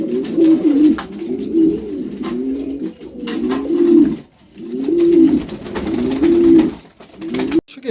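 A pair of pigeons at a bird market coo close by in repeated rolling phrases, a steady rhythmic series of low throaty calls with brief pauses, loud and near, with faint background clatter.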